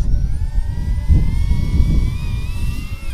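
DJI Avata FPV drone flying close by, its motors giving a steady high-pitched whine with rising and falling tones over a low rumbling wash, with no talking.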